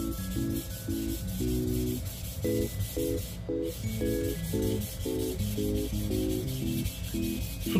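A kitchen knife ground against a whetstone: steady, loud rasping strokes repeat continuously in a regular rhythm, close up, with no talking.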